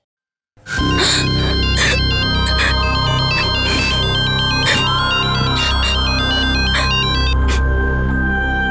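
A telephone ringtone starts after a brief silence and plays loud and close, a continuous electronic melody with repeating bright tones sustained throughout.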